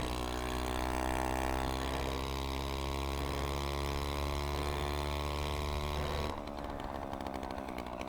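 A 1960s moped engine runs loudly with a steady, buzzing drone, then drops to a quieter idle near the end, with no talking.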